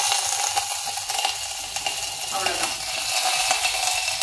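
Mustard seeds, a dried chilli and curry leaves crackle in hot oil for a tempering, a dense, steady sizzle with faint sputtering pops throughout.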